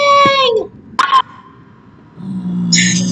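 A cartoon character's hiccup that comes out as a short, sharp squeal-like yelp, sounding more like a scream, standing alone between stretches of tonal voice and background sound.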